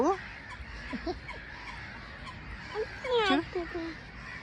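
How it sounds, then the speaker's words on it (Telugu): Geese honk repeatedly nearby at a small lake in Stockholm, short nasal calls in scattered bursts over a soft outdoor background. "భార్గవ్ నన్ను ఇక్కడ చూడండి, ఎన్ని బర్డ్స్ ఉన్నాయో అసలు ఇక్కడ"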